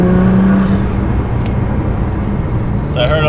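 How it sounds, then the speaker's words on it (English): Nissan GT-R accelerating in third gear under a little boost, a loud, close engine drone building steadily inside the car, with a person talking over it near the end. "we'll do a small acceleration in third gear"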